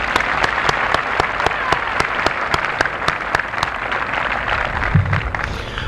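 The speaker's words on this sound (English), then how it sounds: "Could we give those folks a round of applause?" High school commencement audience applause, a large crowd clapping steadily and continuously, with a few sharper individual claps standing out in a rhythmic pattern.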